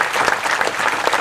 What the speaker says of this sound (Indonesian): kita tepuk tangan semua untuk teman dari Tambang Wetan